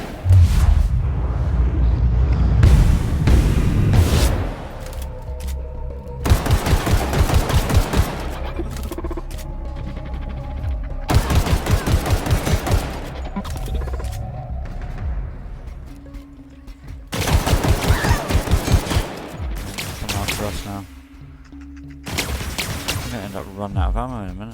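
Rapid automatic-sounding gunfire from the video game The Outer Worlds comes in several loud, dense bursts separated by short pauses, with a voice talking in between.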